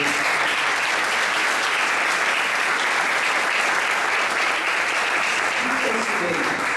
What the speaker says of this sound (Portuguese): Vamos aplaudir Jesus para ver